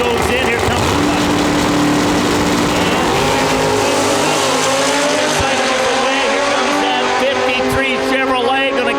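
Drag race at Lonestar Motorsports Park, Extreme Class, pitting a door car against a motorcycle: loud, sustained engine roar with rising revving and tire noise throughout, with a voice talking over it.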